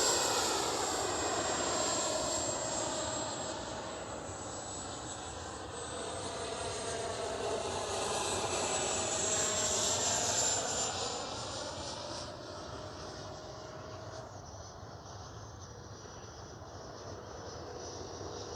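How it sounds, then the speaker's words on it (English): Whining turbine roar of a Freewing F9F-8 Cougar 80mm RC model jet flying past with its tanks fitted, rising and falling in pitch as it sweeps by at a moderate distance. "This is the first time I've ever flown this plane with its tanks on."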